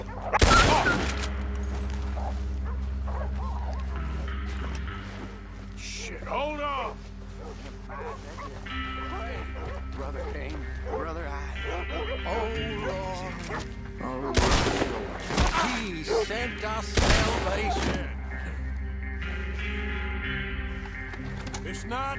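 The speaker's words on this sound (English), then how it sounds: "It's just dogs gone crazy." Dogs in Red Dead Redemption 2 bark, yip and whimper in scattered bursts over a low rumbling drone, broken by a few sharp gunshot-like bangs. Voices speak at times.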